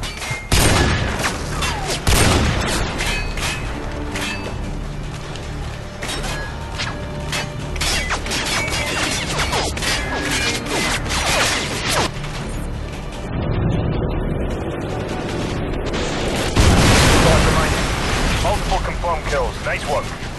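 Missile strike explosions in the video game Modern Warfare 2, heavy crashing booms and rumbling debris mixed with scattered gunfire and mechanical noise, with voices speaking over the continuous battle din.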